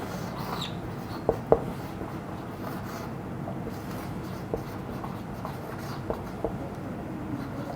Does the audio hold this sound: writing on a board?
yes